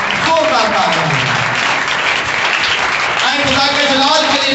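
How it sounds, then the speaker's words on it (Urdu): Loud, dense applause from a church congregation, with steady clapping throughout and a voice speaking over the crowd. "زوردار تالیاں ہیں."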